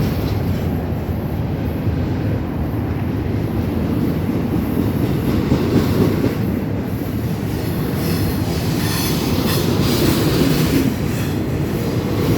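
A Union Pacific Z intermodal freight train passes at Bowman, a continuous loud rumble and rattle of rail cars and wheels on track, with faint squeals, up close throughout.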